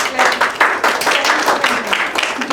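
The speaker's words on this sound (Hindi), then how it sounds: "इनके लिए तालियां।" Applause from a crowd at a quiz competition, brisk and dense clapping that runs steadily and loud through the whole short stretch.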